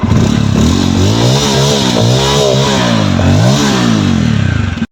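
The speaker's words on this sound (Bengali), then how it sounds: "তোমরা শুনলে দুটো বাইকেরই এক্সস্ট নোট" A Bajaj Pulsar N250 motorcycle exhaust revs hard up close, the engine note climbing and dropping in several loud, throaty surges with no talking.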